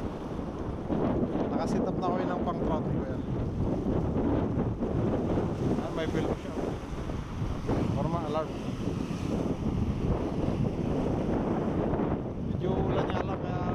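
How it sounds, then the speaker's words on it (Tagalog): Strong wind buffets the microphone out on open water while trout fishing, a constant loud roar of gusts with the sea beneath and people talking over it. "malakas ang hangin."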